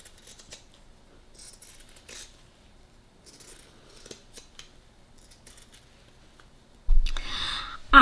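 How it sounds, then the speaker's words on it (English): Scissors snipping overlocking off the hem of a skirt, a few faint scattered cuts followed by a louder, closer burst of snipping near the end. "So Edward Scissorhands, cut the overlocking off."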